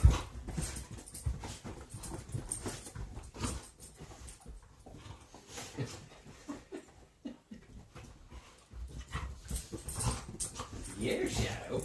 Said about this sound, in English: Leave it to the pups to find the spot and play in it